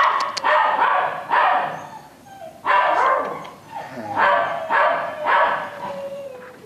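At an adoption shelter, a beagle barks and bays loudly in a series of about eight close, drawn-out calls with short pauses between them, with no talking over them.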